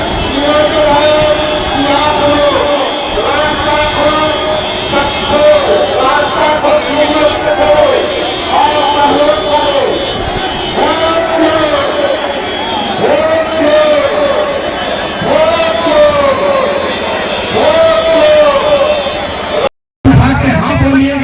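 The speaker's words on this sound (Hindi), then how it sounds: "जन सैलाब उभर रहा है राहुल गांधी की इस यात्रा में" A huge crowd gathers at a Rahul Gandhi rally in Bihar, a dense babble of many voices and shouts rolling on steadily, loud and close, with a brief dropout near the end.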